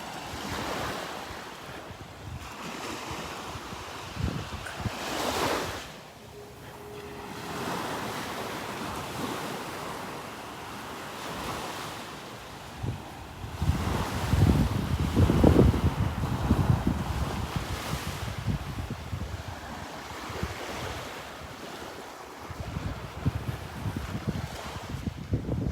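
Waves wash onto a beach in North Naples, Florida, on a morning walk, with wind buffeting the microphone; rolling surges swell and recede over a constant roar, heaviest toward the middle.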